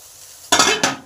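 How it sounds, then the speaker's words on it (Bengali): Cooked rice being mixed into softened vegetables in a pan for mixed fried rice, two short loud bursts of stirring and sizzling after a quiet start. "এই ভাতটা এই সবজির মধ্যে মিশিয়ে দিলাম।"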